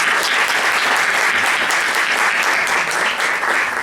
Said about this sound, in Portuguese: Queria pedir, por favor, uma salva de palmas pela sua presença.